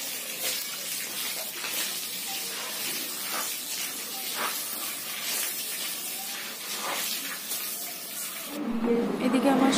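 Water sprays and splashes steadily across a dirty home courtyard as it is washed down, a continuous hiss close by that shifts briefly near the end, with no talking.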